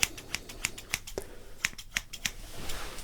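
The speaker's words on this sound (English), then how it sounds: "I'll just continue with the snipping" Scissors snipping hair during a fast haircut: crisp, close, quiet clicks in irregular bursts of single cuts, heard alone without talk.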